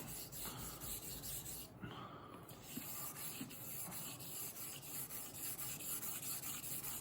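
A recently pinned SUOMI straight razor is honed on a stone with a steady rhythmic scraping and rubbing, strokes repeating close up without any voices.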